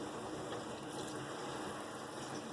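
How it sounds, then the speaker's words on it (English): Water poured into a glass canning jar while home-canning green beans, a steady, even rush of liquid running close and unbroken with no talking. "You take a little bit of water"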